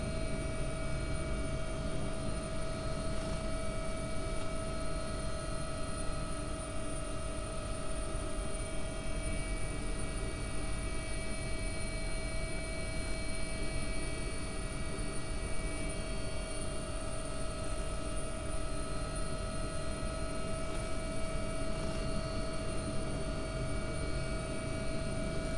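AW-139 helicopter rotor and engines in the X-Plane 11 flight simulator during a coastguard approach to a helipad, a steady, even droning whir with constant turbine tones, unbroken and without talk.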